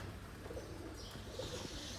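Pigeons coo softly at the Surapura Dham temple in Bholad, a faint, low murmur of calls under steady outdoor ambience.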